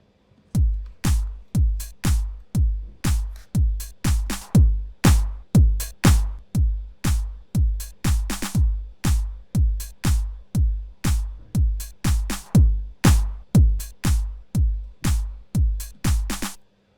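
A 1990s-style house mix with a processed, punchy kick and very deep bass, pounding out a steady four-on-the-floor beat of about two hits per second, loud and continuous with no talking.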